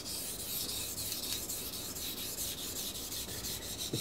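A knife is drawn across a Miyagoshi sharpening stone in a steady series of soft, even rasping strokes, quiet and close, with no talking.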